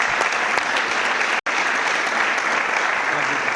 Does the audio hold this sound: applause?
yes